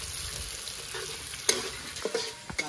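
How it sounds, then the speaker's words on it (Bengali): Chopped green chilies and onion sizzle and frying in a pan for stall-style chowmein, a soft steady hiss broken by a few sharp clinks and scrapes of stirring, with no talking. "কাঁচা লঙ্কা আর পেঁয়াজ ভাজা হয়ে গেছে"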